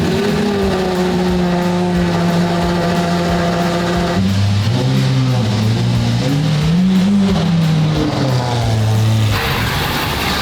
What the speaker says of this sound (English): All right, the last cold start of the SVJ.